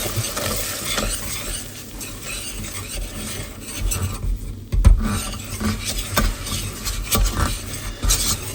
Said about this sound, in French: Et le but c'est de faire un roux blanc.